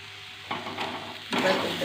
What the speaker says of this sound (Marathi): आता ह्याच्यावर आपण कोथिंबीर घालूया